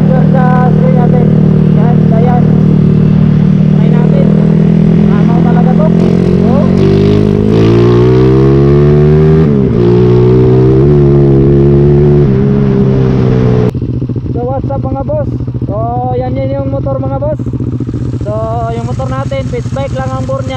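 An XRM 4-valve motorcycle and a Raider 150 Fi race with loud, high-revving engines that climb and fall through gear changes. Later, a single engine sounds farther off while someone talks over it.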